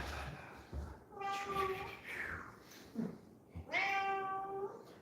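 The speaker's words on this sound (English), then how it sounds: "It's Kojak and Yuki the cat" A pet cat meows several times at close range, drawn-out tonal cries with a pause between them, over a quiet indoor background.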